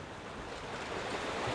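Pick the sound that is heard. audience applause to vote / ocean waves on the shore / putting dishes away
ocean waves on the shore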